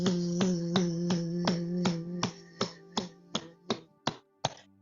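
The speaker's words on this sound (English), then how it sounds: "knocking now your lung points, your lung channels" Steady rhythmic tapping on the body along the lung points during a qigong session, about a dozen evenly spaced sharp knocks over a sustained hummed tone that fades, leaving the taps alone toward the end.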